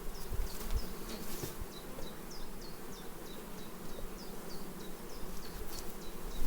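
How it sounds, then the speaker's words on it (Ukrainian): A dense, continuous buzz of many bees crowding a hive frame, steady and close, with occasional individual wingbeats rising above the drone. "І то битком бджоли."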